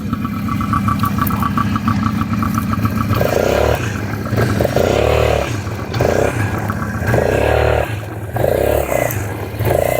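A 150 cc automatic motorcycle engine in Riyadh revs in a series of loud, regular bursts, rising and falling roughly every second over a rough idle, close to the listener.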